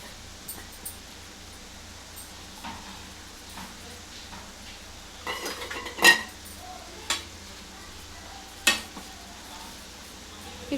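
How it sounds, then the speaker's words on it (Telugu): Bajji fritters frying in oil until brown make a soft, steady background sizzle, broken by occasional clinks and stirring knocks from a utensil against the pan. "ఇవి కూడా మా సేమ్ మళ్ళీ బ్రౌన్ కలర్ వచ్చేంత వరకు వేయించుకొని ఇవి తీసి పక్క పెట్టుకోవాలి."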